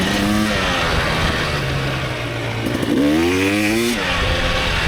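A KTM 300 two-stroke dirt bike engine screams close up while racing hard, its pitch rising and falling through gear changes and a sharp rev swell near the three-second mark, loud and sustained.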